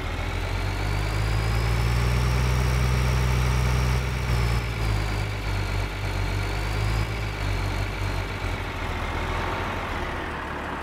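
A farm vehicle engine in Farming Simulator 2013, a loud, steady low drone with a slight rise and fall in pitch as it turns, continuous throughout.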